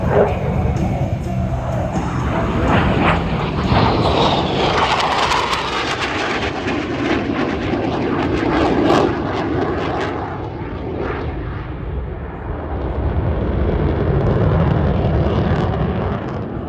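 F/A-18F Super Hornet jet roaring past at high speed during a night air show display, a loud sweeping roar that swells and fades, with a distant crowd and a commentator faintly underneath.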